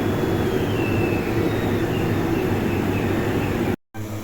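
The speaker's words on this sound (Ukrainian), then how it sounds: "Бачите, як пар видимає, вентилятор той." A ventilation fan on a pumpkin-threshing setup blows out steam in humid conditions, giving a loud, steady broadband rush with a low rumble that continues unbroken until a brief dropout near the end.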